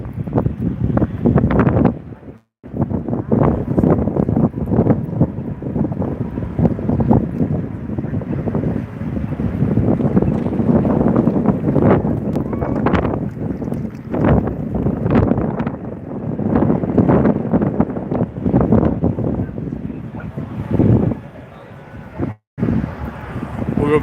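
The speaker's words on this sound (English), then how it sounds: "That's how windy it is in Vegas today" Strong gusty wind roars and buffets the microphone on a walk through downtown Las Vegas, loud and continuous with a couple of brief drops, no talking.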